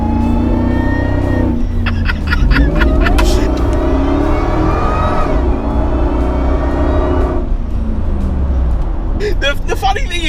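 A supercharged 430 bhp SVT Lightning pickup truck engine revs hard, its loud, rising and falling drone swelling repeatedly while a person talks over it.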